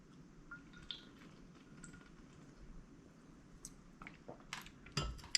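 Water spilling while someone drinks, small drips and splashes building to a cluster of wet spatters near the end, close and quiet.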